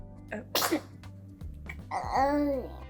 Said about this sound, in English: after she sneezes, she always does a little noise